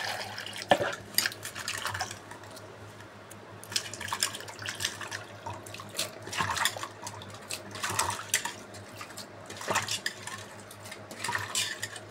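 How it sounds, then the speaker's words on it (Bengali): Cut potatoes being washed by hand in water in a kitchen vessel, repeated splashing and sloshing bursts with clinks of the pot, close but fairly quiet, no voices. "আলুগুলাকে এবার ধুয়ে নিচ্ছি সুন্দর করে"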